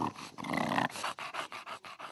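An English bulldog pants and grunts up close, a run of quick rhythmic snorting breaths and throaty rasps, quiet and alone.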